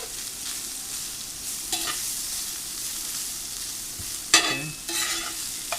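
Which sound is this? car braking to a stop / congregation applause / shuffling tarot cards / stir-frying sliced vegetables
stir-frying sliced vegetables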